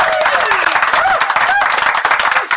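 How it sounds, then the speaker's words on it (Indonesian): An audience gives loud, close applause for the President, with rapid, dense clapping and a few rising whistle-like calls running through it. "Tepuk tangan dulu sama Bapak Presiden kita."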